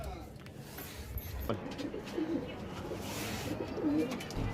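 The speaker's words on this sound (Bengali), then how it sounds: "তোমরা যদি ওড়াতে যাও তাহলে নেবে এই পায়রা দুটো" Pigeons in a loft give soft, repeated low coos over a busy background of rustling and faint voices.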